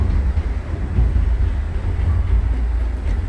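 A passenger express in the MSTS train simulator rolls along with the throttle closed as it nears a station, making a loud, continuous low rumble with no clear clickety-clack and no voices.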